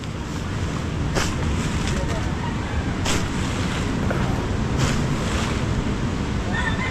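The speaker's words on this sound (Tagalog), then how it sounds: "Kahit na malalaki yung alon." Large sea waves surge and crash near a leaf-strewn beach under threatening weather, a loud continuous roar buffeted by heavy wind noise on the microphone, with several brief louder wave hits.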